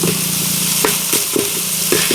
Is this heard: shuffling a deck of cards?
no